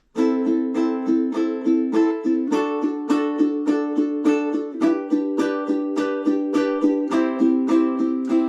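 Steady down-up strumming on a guitar, even rhythmic strokes repeating on a sustained chord with little change, close and moderately loud.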